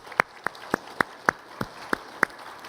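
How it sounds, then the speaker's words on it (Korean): During a church service, a congregation claps in slow, evenly spaced, crisp beats, about eight in under three seconds, over a quiet room. "이분들에게 우리 박수를 한번 격려해요."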